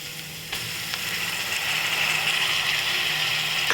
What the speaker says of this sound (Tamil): தக்காளி சேர்த்து நல்லா வதக்கிக்கோங்க